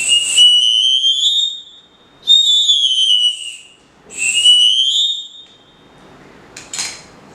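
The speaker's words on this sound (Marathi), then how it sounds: "या बाजूला आपली पारंपरिक शिट्टी आहे" A small traditional whistle flute gives three long, shrill, bright blasts with sliding pitch, separated by short pauses, then a brief sharp chirp at the end, loud and close.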